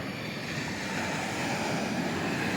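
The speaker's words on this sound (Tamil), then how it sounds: "தெரியுதா உங்களுக்கு கடல் அலை எப்படி வருதுன்னு பார்த்தீங்களா?" Sea surf washes steadily onto a beach at Rajakkamangalam Thurai, a broad continuous roar of breaking waves mixed with wind buffeting the microphone, no voices.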